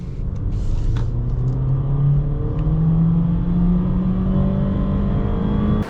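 A 2023 Honda HR-V EX-L AWD accelerates at full throttle, its engine drone rising steadily in pitch and staying loud and close throughout, with no speech.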